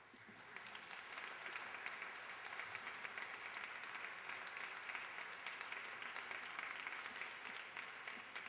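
Steady audience applause filling a hall at an evening event, faint and distant-sounding, continuous and even with no distinct cheers standing out.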